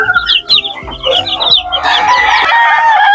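Chickens cluck busily at close range, including young Texas-breed birds, with bursts of chatter and a rooster's crow rising over the flock near the end.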